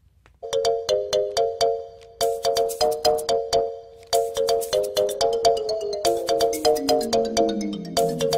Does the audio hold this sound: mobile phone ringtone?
yes